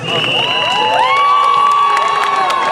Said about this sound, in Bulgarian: Искам да чуя вашите аплодисменти сега за самите вас.